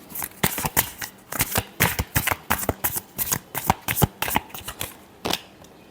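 Tarot cards are shuffled by hand close up, a quick run of papery slaps and riffles repeating in a steady, busy rhythm with no talking.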